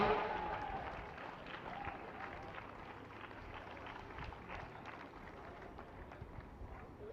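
Applause for the podium finishers at a Swiss triathlon championship, steady crowd clapping that is strongest at the start and then settles into a soft, even patter heard from a distance.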